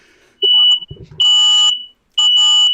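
A piercing electronic alarm beeps in loud, sustained bursts, three long shrill tones separated by short gaps, with a brief clatter between the first two.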